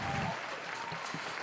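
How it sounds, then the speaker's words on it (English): Sound-effect round of applause from many clapping hands, a dense steady patter at moderate level through the whole short stretch, with no other sounds on top. "I'm going to hit the round of applause first of all because he deserves a round of applause"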